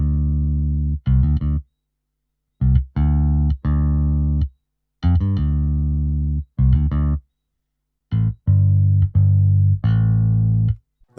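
Modo Bass 2 by IK Multimedia plays a soul-style bass line of short, round low notes in phrases separated by silences, some notes sustained and others clipped, clean and alone.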